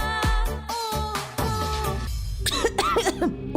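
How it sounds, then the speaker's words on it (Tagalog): Coughing from a person with a chesty cough and congestion, a few harsh bursts over a music bed with voiced, throaty sounds near the end. "Ubo, premang nakabara, hirap sa paghinga."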